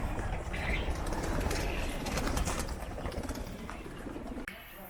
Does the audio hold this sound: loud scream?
no